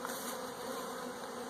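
Honey bees buzz in a dense, continuous drone from a bee package holding the last few remaining bees, steady and fairly close with no voices.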